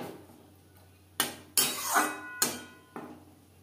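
Metal spoon clanking against a pan as fried pointed gourd is stirred into cooked spice masala, a few separate clinks and scrapes close by over a low background hum.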